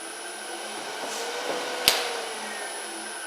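A woodturning lathe hums steadily after being switched on during a captive-ring turning demonstration, with a continuous motor whine and one sharp click partway through.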